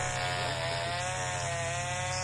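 A chainsaw in the video game Arma 3 drones at a steady, buzzing whine for the whole stretch, constant and fairly quiet, with no speech over it.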